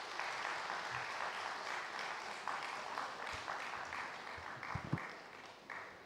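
An audience at a spiritual talk applauding to welcome a speaker, a steady, dense wash of clapping held for several seconds at moderate, slightly distant level.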